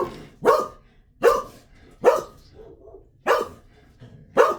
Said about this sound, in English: My dog literally cannot shut up for 20 minutes.